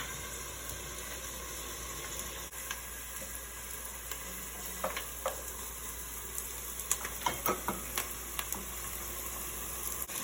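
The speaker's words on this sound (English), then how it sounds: "I'm going to put in my onions. So now it's sizzling." Onions sizzling in hot oil in a pan while cooking Ghanaian red-red bean stew, a steady crackling fry with scattered sharper pops that grow busier toward the end, heard close and alone.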